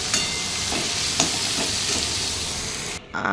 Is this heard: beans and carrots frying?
yes